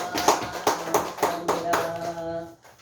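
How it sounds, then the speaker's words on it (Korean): Congregation clapping in praise during an Easter Sunday church service, a series of distinct rhythmic claps about every quarter second over sustained musical tones, moderately loud, fading out at the end. "하나님께 영광의 박수 올려드리겠습니다"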